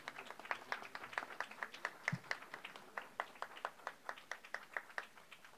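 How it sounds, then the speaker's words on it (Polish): Sparse applause from a small audience at an agricultural awards gala, a handful of distinct hand claps in an uneven, steady rhythm heard close and fairly quiet. "Brawa."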